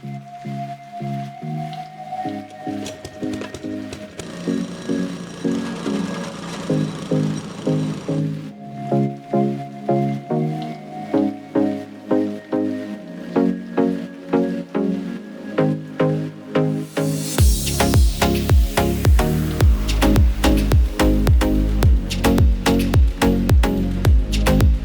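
A lawn aerator pulls soil cores from a small bumpy lawn in a steady rhythm of repeated squelching thumps, close and loud, joined by a heavier rumbling engine drive toward the end, no talk.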